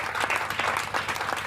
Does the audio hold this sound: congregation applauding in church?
yes